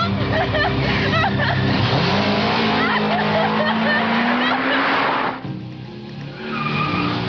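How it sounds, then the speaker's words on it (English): A car races off during a chase, its engine roaring loudly with tires skidding and squealing in a sustained rush that suddenly drops away, with voices talking throughout. "The car's going now."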